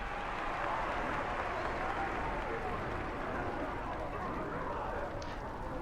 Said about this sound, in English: And then the crowd goes wild.